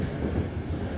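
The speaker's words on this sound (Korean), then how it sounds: "지하철 소리." A subway train rumbles steadily with a dense, low rolling roar of wheels on track, loud and continuous throughout.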